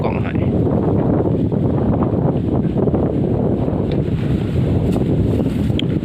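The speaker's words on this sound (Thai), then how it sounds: "ลมแห้งแท้" Strong wind buffets a small boat out on the Mekong River, producing a loud, constant roar of gusts against the microphone that stays steady from start to finish.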